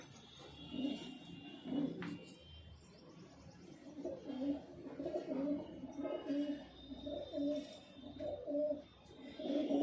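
Highflyer pigeons in a loft coo in repeated low, throaty pulses, with a soft, steady, rhythmic murmur throughout and faint chirps in the background.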